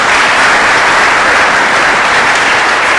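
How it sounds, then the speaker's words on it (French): Loud, continuous applause from an audience at an evening spiritual conference and year-end ceremony, a dense, even roar of many hands clapping throughout. "je veux les applaudir encore s'il vous plaît."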